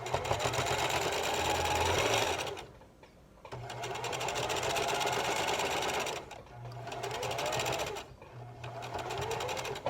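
A sewing machine runs in long continuous bursts as it stitches along the edge of a fabric face mask, loud and close, stopping briefly three times before starting up again.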